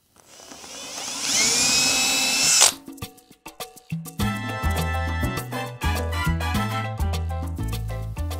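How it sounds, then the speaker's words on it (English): A 3/32 inch drill bores pilot holes in wood, a steady high whine for about two and a half seconds before it stops, followed by louder tonal music-like sounds. "I'll take my 3/32 inch drill"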